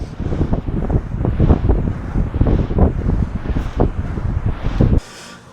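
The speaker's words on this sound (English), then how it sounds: "we're gonna do 3 to 5 minutes on the air bike" An air bike's fan whirs steadily in a rhythmic, pulsing whoosh during a warm-up, close and fairly loud, cutting off abruptly near the end.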